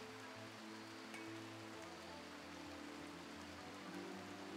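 Rain falls steadily in the video game RimWorld, a soft, even hiss of constant patter that stays faint and unbroken throughout, with no talking.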